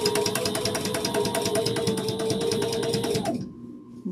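A sewing machine stitches a quilted tote bag in a fast, steady mechanical chatter of needle strokes, running loud and close for about three seconds before stopping abruptly.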